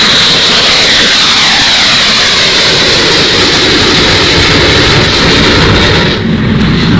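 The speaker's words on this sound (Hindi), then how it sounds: "ये ब्रिटेन का लड़ाकू विमान देख रहे हैं" A British fighter jet flies past with a loud, sustained roaring rush of engine noise. The roar shifts in pitch as the aircraft passes and eases slightly near the end, and no one talks over it.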